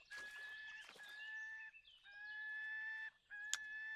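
Several birds call outdoors in clucking, fowl-like bursts with sustained tonal notes, fairly faint and alone with no talk, ending in one sharp louder chirp.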